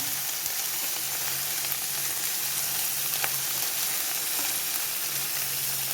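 Chopped ivy gourd and onion frying in a pan give a steady, even sizzle that stays close and unbroken, with no talking.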